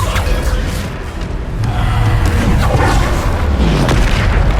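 Booming blast of a Bombarda spell exploding in Hogwarts Legacy, a loud, deep, rumbling roar that swells and sustains for several seconds without speech.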